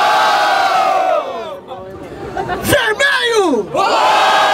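A loud crowd roars, cheers and shouts at a freestyle rap battle, the Batalha da Aldeia in Barueri, São Paulo. The noise swells and dips over a few seconds, with high whoops and whistles rising through it.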